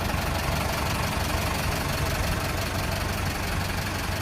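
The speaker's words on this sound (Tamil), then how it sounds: "பாருங்கள் ஒரு இன்ஜின் நாய்ஸ் எப்படி இருக்குன்னு பாருங்கள்." A Tata tipper truck's BS4 diesel engine idles steadily up close, a continuous low rumble with a faint knocking chatter throughout.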